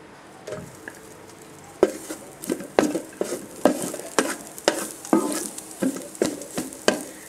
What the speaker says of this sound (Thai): ผัดให้มีกลิ่นหอมให้เข้ากันกับกระทะนะคะ